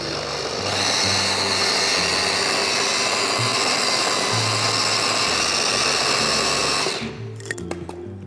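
An electric meat grinder working meat for fresh tortellini, a loud continuous motorized whir that runs steadily for several seconds before cutting off, followed by a few light clicks.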